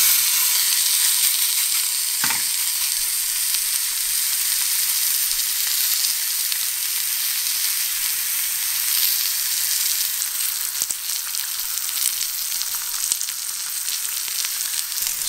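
Two 250-gram meat cuts sizzle and fry in a grill pan, a steady bright crackling hiss that runs continuously with a few small pops, nearby and alone.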